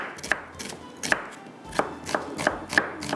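Knife chopping onions lengthwise into thick pieces on a cutting board, about eight sharp close taps in an uneven rhythm, no speech.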